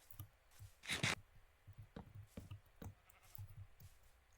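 Sheep bleat in a farming video game, one loud close bleat followed by several shorter, softer bleats scattered over a few seconds against quiet background.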